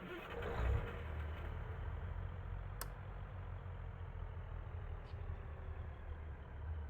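A Class 150 diesel train engine in Train Sim World 2 starts and settles into a low, steady idling rumble, with a brief surge at the start and a faint click partway through.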